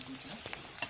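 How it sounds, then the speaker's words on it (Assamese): Onions with a pinch of salt frying in a pan, giving a brief, steady close sizzle with small crackles. "নিমখ অলপ দি লৈ আকৌ ধুনীয়াকৈ ভাজি থাকিম"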